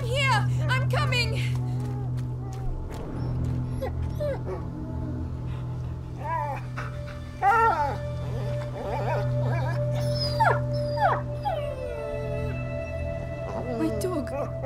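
A dog in the video game A Plague Tale: Innocence whimpers and yips in repeated short cries over a steady low drone, with voices speaking in between.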